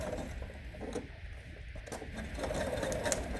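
A sewing machine stitches steadily around the edge of a fabric mask cover, its continuous mechanical whir and needle rattle close and even throughout, with no talk over it.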